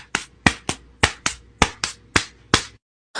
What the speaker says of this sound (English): He love when I clap for him